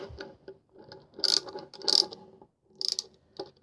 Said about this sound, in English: what's cool about this is it actually ratchets